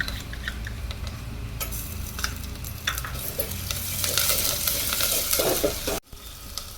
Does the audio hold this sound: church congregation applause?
no